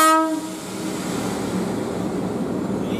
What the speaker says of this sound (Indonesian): kereta api akan melintas langsung jalur 1